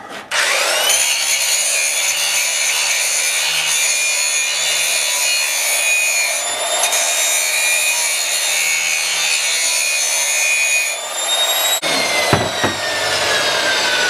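A power grinder whines loudly and steadily grinding down the hammer-marked metal edges of brake pads, a continuous high-pitched grinding with a brief change in tone near the end.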